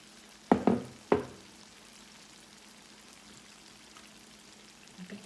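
Yellow summer squash frying in a pan of grease gives a soft, steady low sizzle, broken early by three sharp clattering knocks from the pan before it settles back to the quiet crackle.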